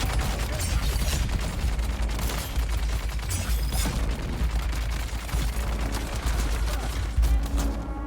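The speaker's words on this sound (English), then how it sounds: "That is a lot of bullets." Rapid bursts of dart-gun fire in the Dune survival game, dense and continuous with sharp repeated shots and low booms throughout, loud and close.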